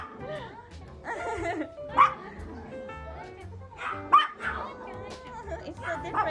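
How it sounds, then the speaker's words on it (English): Dogs at a dog cafe in Akihabara bark and yip repeatedly, with sharp, loud barks near the two- and four-second marks over a busy room where people keep talking. "the dogs are barking and barking"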